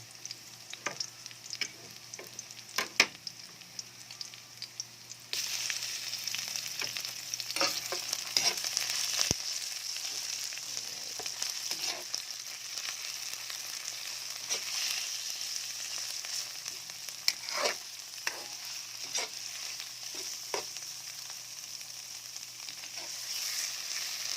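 Ground meat for ginataang papaya fries in a pan, a steady close sizzle that grows louder after a few seconds, broken by occasional scraping stir clicks.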